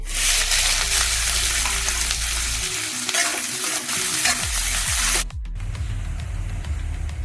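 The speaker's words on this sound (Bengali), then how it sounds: "পেঁয়াজটা আমার দু তিন মিনিট ভাজা হয়ে গেছে" Finely chopped onions frying in hot oil in a home kitchen, a loud continuous sizzle with stirring scrapes, the hiss easing slightly near the end.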